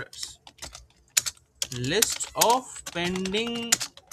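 Fingers type on a computer keyboard while writing web page code, a scatter of close, crisp key clicks in uneven bursts, with someone speaking over much of it.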